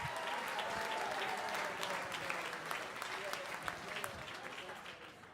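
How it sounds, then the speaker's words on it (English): Sustained applause from an audience at a benefit auction event, a steady dense wash of clapping that stays even for several seconds and slowly eases, heard at moderate distance. "Would you give Erica one more big round of applause?"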